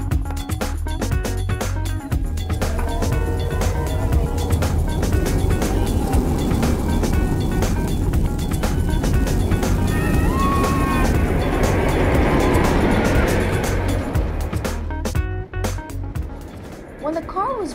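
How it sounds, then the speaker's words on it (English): A model roller coaster car is released from its chain lift and rolls down the hill, making a loud, continuous rumbling and rattling roar with a voice talking over it. "When the car was released from the chain lift, the roller coaster blasted down the hill."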